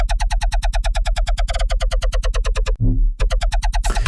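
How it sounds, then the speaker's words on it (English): A shake bass loop sample: rapid, evenly pulsing bass hits in a steady rhythm, broken by a short tonal pause before the pattern resumes, loud and close with no voices. "This is the shake bass loop, and it sounds like this"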